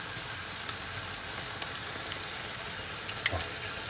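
Tomato sauce hits a hot pan of garlic while lasagne is being made, giving a steady close sizzle that runs throughout, with a few faint clinks and one sharper tap near the end.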